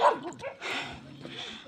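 A dog barks at hikers on a mountain trail near Sagada, a couple of quick close yips and barks in under two seconds.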